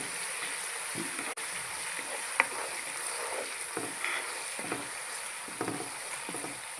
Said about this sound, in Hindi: ये मैं थोड़ा सा फ्राई कर लूँ